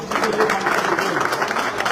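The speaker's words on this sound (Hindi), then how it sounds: "मैं जोरदार ताली आप लोगों से चाहूंगा" An indoor audience at a car delivery ceremony bursts into steady, dense applause that is loud and sustained throughout.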